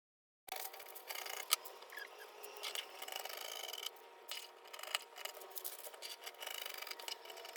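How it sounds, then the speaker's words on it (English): Scissors cut through a paper sewing pattern up close: continuous crisp snipping and rustling of paper, with rhythmic cuts and brief pauses, quiet and with no talk. "Okay, then I'll just go ahead now and cut out the pattern."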